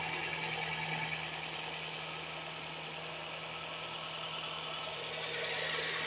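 A Nissan X-Trail QR25 engine, after a head gasket replacement, idles steadily at close range, a smooth low hum with a constant tone and no revving, running evenly throughout.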